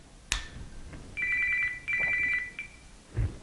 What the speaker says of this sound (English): The watch rings.